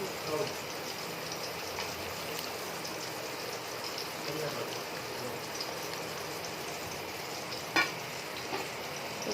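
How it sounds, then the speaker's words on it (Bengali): Pointed gourd (potol) frying in oil in a home kitchen while khichuri cooks nearby, a steady broadband sizzle with faint stirring and one sharp clink partway through. "আর দেখো পটল ভাজা ভেজে নিচ্ছি।"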